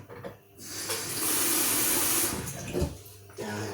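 Water runs from a tap in a steady hissing stream for cooking noodles, starting after a brief pause and continuing for a few seconds before easing off.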